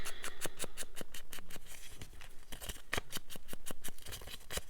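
Scissors snipping quickly through paper flowers, a rapid run of crisp, close cuts in an even rhythm, quiet and alone with no voices.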